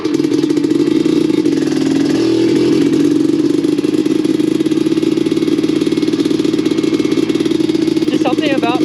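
A vintage Suzuki LT250R two-stroke quad, already slightly warmed up, idles and revs with a steady buzzing drone that swells briefly, close and loud throughout.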